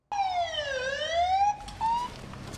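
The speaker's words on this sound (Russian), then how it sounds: "Сотрудник охраны нажал на кнопку тревожной сигнализации." A security alarm siren sounds during a school safety drill, a loud close electronic wail sweeping down and back up, then cutting to a shorter rising tone.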